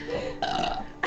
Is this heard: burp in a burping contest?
yes